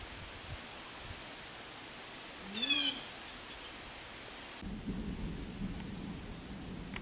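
Soft, steady hiss of light rain falling, with a brief bird call partway through.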